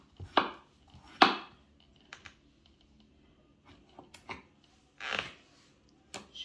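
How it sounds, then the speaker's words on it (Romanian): Melon being chopped into small cubes with a knife on a board, sharp isolated thuds spaced irregularly, two louder strokes early, then lighter taps and another firm chop later, near and otherwise quiet. "Și le tăiem așa cum putem,"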